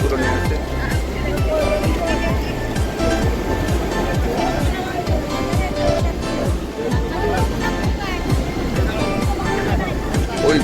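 Sea waves break on the shore at Puri in a dense, continuous roar of surf, loud and unbroken throughout, with no clear pauses between breakers.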